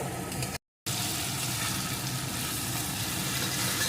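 Chopped tomato fries in a pan for a rohu fish curry with poppy seed, giving a steady, dense sizzle. A brief dropout cuts in near the start, then the sizzling continues evenly without talk.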